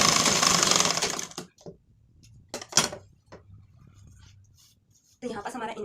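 Sewing machine stitching a blouse with lining, running loud and steady for over a second, then stopping; after a quiet pause with clicks and handling, the machine starts up again.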